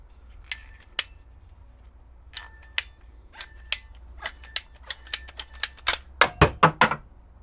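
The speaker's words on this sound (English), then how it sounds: "I will take my handy PVC cutting tool and cut it to size" PVC pipe cut with a ratcheting PVC cutting tool, a series of sharp plastic clicks that quicken toward the end, ending in a few louder snapping crunches as the blade goes through, close and otherwise quiet.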